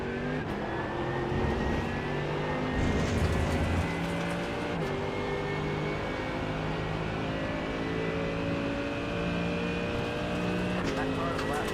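A GT3 race car in a racing video game holds full throttle with a loud, sustained engine roar and rising gear pitches, while a driver talks over it.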